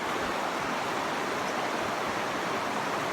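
Steady broadband rush of flowing river water at the bottom end of a ranch, continuous and fairly close with no pauses, nothing else heard over it.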